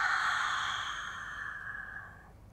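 A long, steady breathy exhale during a Pilates matwork breathing exercise, close and fairly loud at first, then tapering off gradually over about two seconds before fading to quiet.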